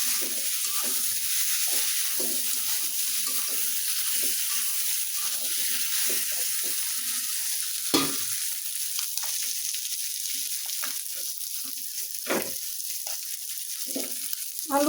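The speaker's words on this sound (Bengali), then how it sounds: "একবারে ভাজা ভাজা করে নিছি" Masala frying in a pan on a home stove, a steady close sizzle with occasional stirring scrapes and brief louder spatters, no talking.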